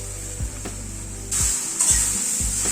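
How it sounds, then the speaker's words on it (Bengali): Chopped onion sizzling in hot oil with okra (bhindi) in a pan, with a steady frying hiss and several sharp scrapes and clacks of a spatula stirring, close and loud. "পেঁয়াজটাও ভেন্ডির সাথে ভেজে নেব।"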